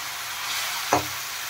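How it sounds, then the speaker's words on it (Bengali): Cabbage and fried fish heads are stirred with spices in a pan, a steady faint sizzle with one brief scrape of the spoon near the middle. "দেখুন কপি মশলার সাথে ভালো করে মিশিয়ে দিচ্ছি।"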